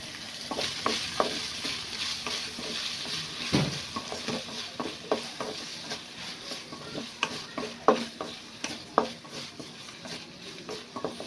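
Large-cut tomato pieces sizzling in a pan of crab curry masala while a spoon stirs and scrapes, steady frying hiss with frequent sharp utensil clinks against the pan.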